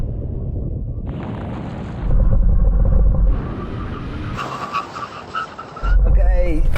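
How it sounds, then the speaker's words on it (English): A Ferrari Roma, Bentley GT Speed and Aston Martin DBS on carbon ceramic brakes make a full emergency stop from 100 mph, loud engine roar and rumble shifting as the cars slow, with tyre noise near the close. "now we're going to do a brake test from 100 miles an hour. When we reach the line, full emergency stop"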